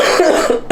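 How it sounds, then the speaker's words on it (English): A single harsh, loud cough right after hitting a bong, close to the mic with a brief rasping throat clear at the end. "I hit really that bong and I coughed"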